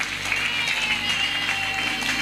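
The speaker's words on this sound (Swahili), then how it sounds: "Hapa mpige makofi vizuri." Church congregation applauding together, a steady dense wash of many hands clapping at an even level throughout, with a sustained tone running underneath.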